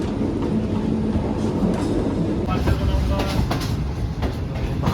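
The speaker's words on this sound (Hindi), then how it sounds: "भावलपुर रेलवे स्टेशन आ चुका है और हमारी ट्रेन मेन लाइन से लूप लाइन पर जा रही है।" The Shalimar Express, a passenger train, switches from the main line to a loop line on arrival at Bahawalpur station. Steady, loud wheel rumble and clatter fill the clip, with faint squeals near the end.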